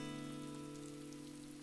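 Steady patter of rain falling on a surface in the video game Animal Crossing: New Horizons, continuous and even, with a sustained tonal hum running underneath.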